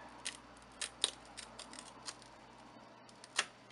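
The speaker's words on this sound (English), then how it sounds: "cut off that printout with this plastic edge" Thermal printout paper from an HP 82240A printer being torn off against a plastic edge, heard as a few quiet, sharp crisp snips and rips spaced through a faint, otherwise still room.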